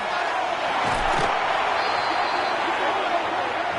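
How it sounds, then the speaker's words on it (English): A packed football stadium crowd roars in a dense, steady wall of noise during a late-game third-and-long, the din rising and holding loud throughout. "This crowd turning up the decibel level"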